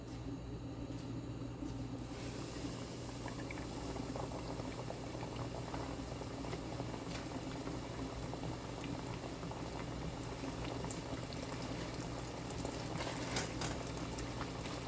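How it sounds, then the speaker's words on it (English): Pork chop frying in hot oil, a steady dense crackling sizzle that stays loud and even throughout, with no voices. "now it seems like my oil is ready. So I'm gonna drop my first pork chop"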